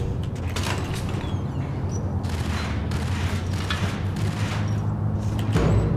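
Gunfire in Max Payne, a steady stretch of low rumbling shots and booms lasting throughout, dense and fairly loud, with several broadband bursts and a heavier blast near the end.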